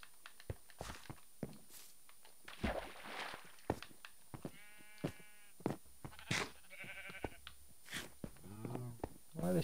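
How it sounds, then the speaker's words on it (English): Minecraft sheep bleat a few times in short, wavering calls amid blocky footsteps and other game clicks, fairly quiet and scattered across the scene with gaps between sounds. "Sheep ignoring me."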